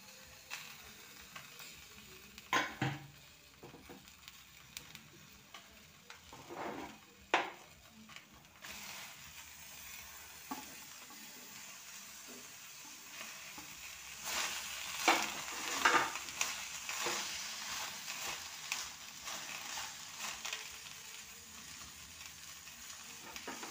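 Prawns sizzle and crackle in hot oil in a pan, with bursts of scraping as they are stirred, growing louder and busier toward the end; a fried prawn dish with banana flower being cooked.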